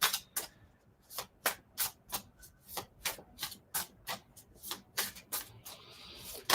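Playing cards shuffled in repeated riffle bursts at a casual card gathering, crisp rustling flutters coming in quick irregular rhythm, close and fairly clear with no talk.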